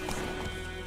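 Roach, a horse in the video game The Witcher 3, gallops in a brief burst of quick hoofbeats, fairly faint and short.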